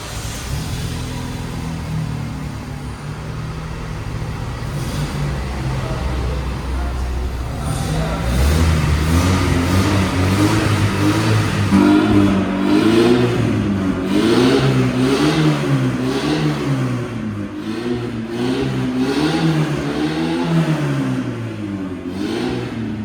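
Chevrolet S10 2.4 gasoline pickup with a stainless steel 304 diffuser exhaust, idling low and then revving up into a loud, sustained, rising and falling engine roar that stays close throughout.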